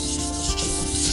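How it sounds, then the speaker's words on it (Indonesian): Wood being sanded by hand with Norton 240-grit sandpaper along the grain: a steady, close, continuous abrasive rubbing with no pauses, alone without voices. "kita amplas nomor 240 dengan menggunakan amplas Norton searah dengan serat kayu"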